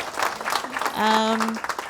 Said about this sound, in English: applause for Uma?